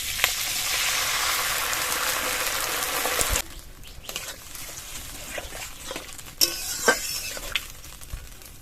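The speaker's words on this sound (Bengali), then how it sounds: "30 সেকেন্ড মতো নেড়ে চেড়ে নিয়ে এর মধ্যে গুলিয়ে রাখা সসগুলো দিয়ে দেবো।" Pre-mixed sauces for a shrimp chili go into a hot pan: a loud, close hiss of frying cuts off sharply, leaving quieter bubbling, a few clinks and stirring scrapes.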